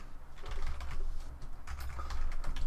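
Typing on a computer keyboard while working in Kali Linux during a capture-the-flag exercise, a fast, close run of clicky keystrokes in uneven bursts with short pauses, alone without talk.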